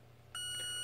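A 1982 Sears Model 47201 electronic alarm clock, set to low volume, sounds a single short quiet half-second beep over faint background hum.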